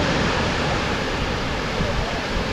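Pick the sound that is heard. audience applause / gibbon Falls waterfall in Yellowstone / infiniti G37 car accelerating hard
gibbon Falls waterfall in Yellowstone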